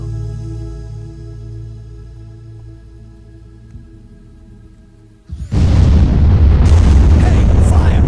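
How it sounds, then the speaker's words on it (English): A meteor strikes the ground in the video game Black & White, a sudden loud rumbling explosion that bursts in after a quiet musical drone and sustains as a heavy roar to the end. "It's a meteor. Thank goodness it missed the village."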